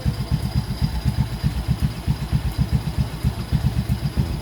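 A motorcycle engine idles close by with a rapid, even chugging pulse and light mechanical clatter, steady and fairly loud throughout, with no voices.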